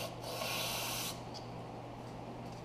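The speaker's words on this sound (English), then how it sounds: "take some brake clean," Brake cleaner sprays from an aerosol can into a seized exhaust manifold bolt hole on a 351 Windsor engine, a steady close hiss lasting about a second before cutting off to quiet.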